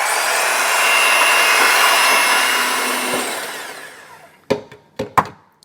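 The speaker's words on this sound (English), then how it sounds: "You just want to mix your eggs or beat your eggs until they become nice and frothy" Eggs being beaten until frothy for a from-scratch pumpkin pie, a steady loud whirring mixer that runs for about four seconds, fades, then stops, followed by a few sharp knocks.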